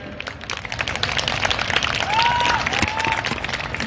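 An audience at a comedy poetry event in a hall applauds loudly and continuously, with a few whistles rising above the clapping.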